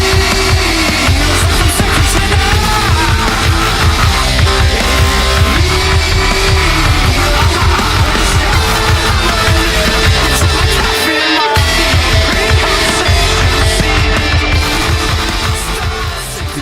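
A band's track plays at full volume with dense, driving drums, distorted guitars and constant layered instrumentation, with a brief drop near the end before the wall of sound resumes and slowly fades.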